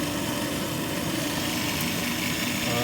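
Payne furnace inducer fan motor turning too slowly to light the burner, producing a steady, dense mechanical hum and whir that stays constant and fairly loud up close.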